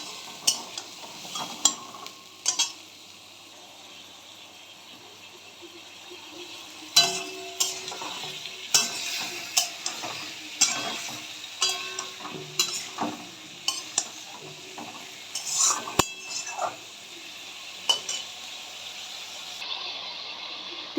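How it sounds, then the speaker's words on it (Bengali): Spice paste and tomatoes are stir-fried in a pan, giving a soft low sizzle with rhythmic bursts of spatula scraping and stirring that grow more frequent in the second half. "একটু ভালো করে এখন কষে নেব।"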